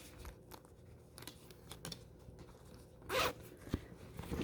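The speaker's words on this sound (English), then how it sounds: "Unzips very nicely." A short, bright zipper pull rasps once, close and crisp, amid faint rustling of fabric, as a concealed zipper on a heated jacket is unzipped.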